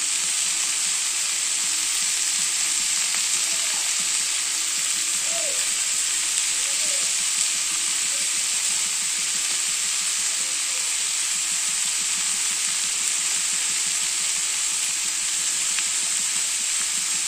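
Crushed peanuts frying together with chopped broad beans (chikkudu kaya) in a pan, a steady close hiss of sizzling oil with faint scattered pops, continuing evenly throughout with no talking.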